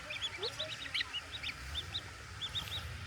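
Small birds chirping nearby outdoors, a string of short bright calls repeating through the moment over a low background rumble.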